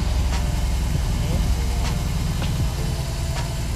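A BMW R18 motorcycle engine idles in neutral, a steady low rumble that runs throughout at an even, moderate level.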